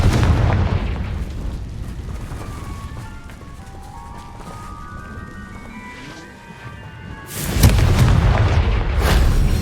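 In Hogwarts Legacy, a Confringo spell's shimmering rising magical tones lead into a sudden loud fiery explosion, followed by a heavy rumbling boom that lingers to the end.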